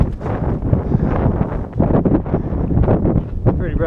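Strong gusting wind in a desert canyon near Turtlehead Peak buffets the microphone with loud, rumbling, uneven blasts that continue throughout, close and harsh.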